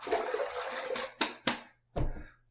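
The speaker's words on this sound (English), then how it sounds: "let me just splash a little water on the face, not a lot" Water splashed onto a face at a sink before shaving, a running rush followed by a few quick splashes, close and clear, without speech.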